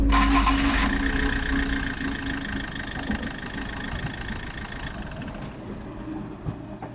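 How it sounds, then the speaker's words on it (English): A loud truck engine rumbles on an Indian road near Varanasi, a steady heavy drone close by that dominates throughout, easing slightly after the first second. "See how loud that truck is?"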